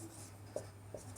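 Marker or chalk writing on a board, two brief taps or strokes against a faint steady hum, quiet and close with no talking.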